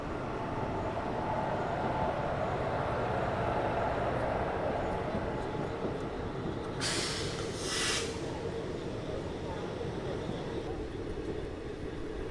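A passenger train on the Kanyakumari to Bangalore route runs steadily, a continuous loud rumble and rushing noise throughout, with two brief higher bursts of noise in the second half.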